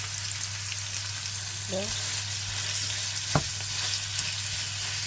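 Mixed meat for a meat pie fries in a pan with a steady, broadband sizzle, a low constant hum beneath it, and a couple of brief clanks as it is handled. A voice speaks briefly.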